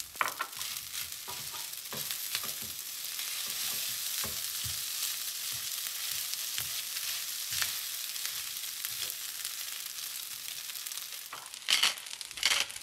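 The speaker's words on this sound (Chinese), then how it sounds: "倒入蛋白，翻炒几下。" Egg whites stir-fried with cooked rice in a hot pan, a steady close sizzle broken by repeated scraping and tossing strokes of the spatula, with a louder clatter near the end.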